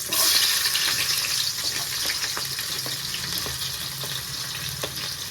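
Onions crackle and sizzle in about four tablespoons of hot oil in a pan while cooking a gobi tomato curry, a dense, loud, close frying hiss with faint stirring clicks and no speech.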